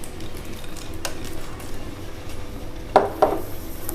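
Almonds and walnuts tipped into a pan of Multani sohan halwa land as two quick, close clattering knocks over a quiet kitchen background.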